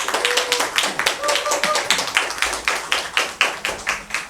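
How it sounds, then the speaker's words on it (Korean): A church congregation at a Sunday worship service claps in a steady, rhythmic beat to welcome a missionary pastor to the pulpit. The claps are sharp and evenly spaced, several per second, continuing for a few seconds. "우리 박수로 환영하겠습니다"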